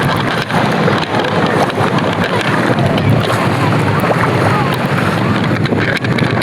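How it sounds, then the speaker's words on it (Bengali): Strong, steady wind buffets the microphone on Patenga sea beach, a loud continuous roar with sea noise underneath throughout. "কিন্তু বাতাস অনেক বেশি আছে"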